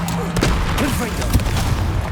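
Fiery Confringo blast spells burst in Hogwarts Legacy, delivering booming impacts with a sharp crack near the middle, under a constant rumbling battle din while a voice shouts.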